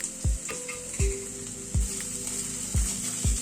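Ginger garlic paste fries in a pan for a chicken dish, a steady hissing sizzle broken by about five dull thumps of a spoon stirring against the pan, close and without speech.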